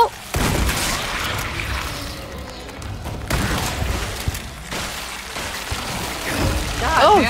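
Gunfire against a worm-filled monster in the Resident Evil 4 Remake video game, a steady barrage of booming shots and bursts over continuous game noise, with talking heard throughout.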